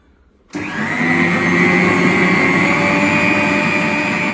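An electric hand mixer whirring as it beats eggs, oil and vanilla essence for a cake, switching on abruptly after a brief quiet moment and then running as a loud, steady, close motor drone.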